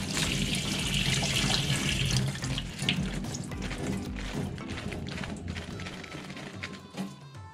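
Lettuce rinsed in ice water for a homemade Eastern salad, with a steady loud rush of running tap water splashing into a sink throughout, fading slightly toward the end.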